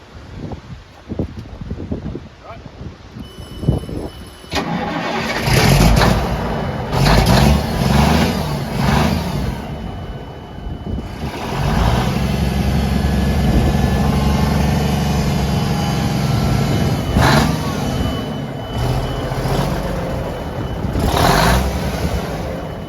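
A Kenworth K144 truck engine cranks several times and catches, then settles into a loud, steady idle that continues to the end, with some wind noise on the microphone.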